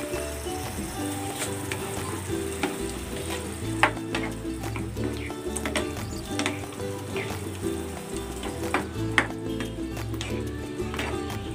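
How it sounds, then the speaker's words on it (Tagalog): Chicken in evaporated milk sauce cooking in a pan, a continuous bubbling sizzle with occasional spoon taps and stirring sounds, steady and close throughout. "lutuin pa natin ito hanggang sa medyo lumapot yung sauce"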